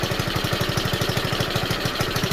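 A GY6 scooter engine idling on a homemade run stand, a steady rapid low putter with even pulses, close and alone.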